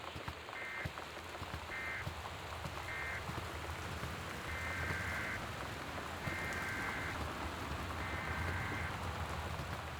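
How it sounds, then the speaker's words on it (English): Steady rain and storm ambience from the video game Gone Home, a dense continuous hiss with faint low rumbling, alongside short repeating electronic tones and longer beeps like a weather-alert broadcast signal. "The Northwest Weather Service reports high winds and torrential rain conditions"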